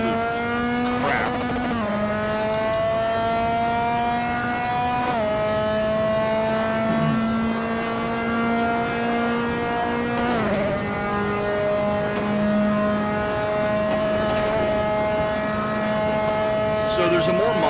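A Dallara F3 race car engine in Assetto Corsa drones steadily at high revs, with brief dips and pitch steps at gear changes, loud and continuous throughout.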